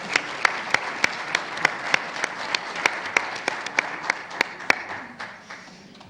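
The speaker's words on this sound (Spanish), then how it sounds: "Denle un aplauso a Xochitl." An audience applauds a speaker at an open parliamentary forum on labor justice and union freedom, with steady, evenly spaced claps that sound slightly distant and fade toward the end.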